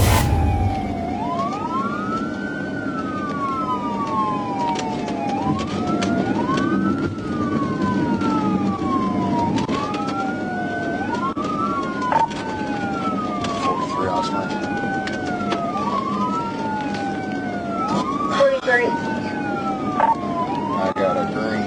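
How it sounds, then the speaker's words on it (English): A police trooper car's wailing siren rises and falls in a steady repeating cycle throughout a highway pursuit, loud and continuous over road and engine rumble, with a faint radio voice underneath. "The trooper activated his siren and informed the suspect of the pursuit"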